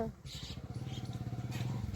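A motorcycle engine idles close by with a steady, low, throbbing putter.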